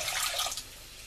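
Italian Pinot Grigio white wine poured into a chicken dish, a brief close splashing trickle of liquid that fades quickly.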